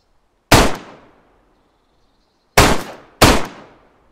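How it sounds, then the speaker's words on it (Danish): Gunfire in the video game DayZ: three loud, sharp shots with ringing decay, one alone and then two close together after a pause. "Det lyder som om, der bliver skudt til venstre for os, Mark."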